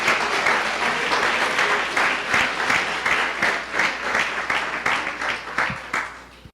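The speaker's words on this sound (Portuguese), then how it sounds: "Dê uma salva de palmas ao Senhor." A church congregation applauds, with steady, moderately loud clapping from many hands filling the room and gradually tapering off at the end.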